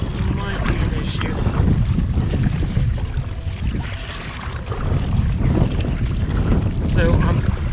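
Crosswind blowing across open water during a kayak search for a missing veteran's car, heard as a loud, constant rumble of wind buffeting the microphone, with faint water sounds beneath and no clear talk.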